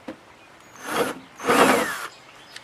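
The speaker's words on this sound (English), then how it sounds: "I'll just make a little mark with the drill where to start" Two short bursts of a power drill marking a Halloween tombstone prop, whining up close, each lasting about half a second with a grinding edge, separated by a brief quiet pause.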